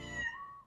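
A cat meows once in a garage, a short, close, clear cry that falls in pitch and fades out quickly.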